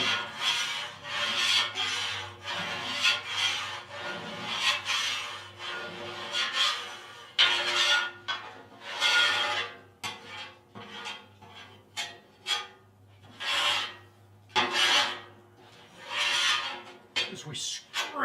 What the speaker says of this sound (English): As we scrape the Blackstone, get all the gunk up.